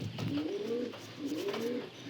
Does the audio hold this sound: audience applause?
no